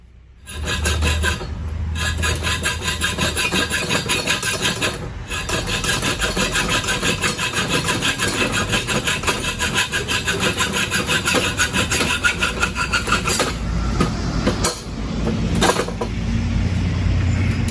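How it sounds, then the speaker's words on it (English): Metal rod stock for a door lock linkage is sawn through to trim off the excess, a continuous rasping back-and-forth cutting stroke that runs steadily for many seconds, close and fairly loud, briefly pausing a couple of times. "now I'm gonna go ahead and cut off this excess"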